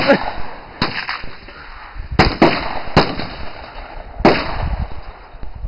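A customized Mauser rifle fired outdoors after boresighting, giving several sharp, loud cracks at irregular intervals against a steady hiss and occasional movement noise.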